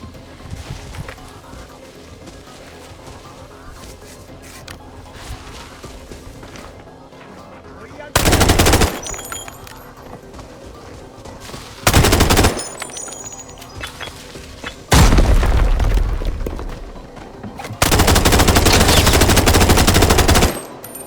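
Machine gun fire in the shooter game Arena Breakout: several loud sustained automatic bursts, each lasting one to three seconds, separated by quieter stretches of in-game ambience and footsteps, with no clear speech.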